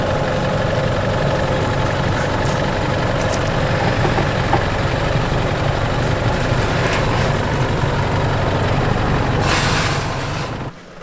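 An Isuzu MU-X 4x4, running on a new front diff and 15–16 PSI tyres, crawls slowly in low range over forest off-road terrain. Its engine drones in a steady, close, low rumble that holds almost unchanged until it cuts off at the end.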